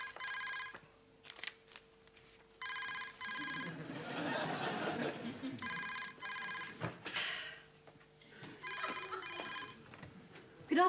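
An office telephone rings in four repeated double-burst trills, loud and close, between short pauses; a low murmur of background voices runs under the rings.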